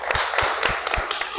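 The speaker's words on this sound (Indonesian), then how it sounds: "Kasih tepuk tangan dong." A church congregation at a Sunday worship service claps briefly, with a few sharp, uneven hand claps standing out over a dense, steady patter.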